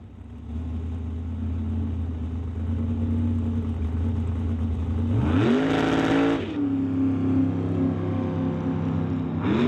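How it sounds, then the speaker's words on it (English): Super Gas Mustang at a drag strip, a loud engine note holding then surging into a sharp rising roar mid-clip before settling back to a steady drone, heard from trackside. "Brings up Dean Peterson in the Super Gas Mustang."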